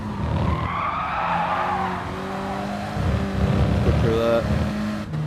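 Front-wheel-drive Renault Clio Cup race car of about 200 horsepower in a racing video game at the Red Bull Ring, engine droning and shifting pitch with brief tyre squeal, under a driver's spoken commentary.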